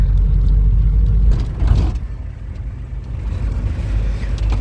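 Interior rumble of a marshrutka minibus riding through Hurghada, a loud continuous low engine and road drone with faint rattles and no talking.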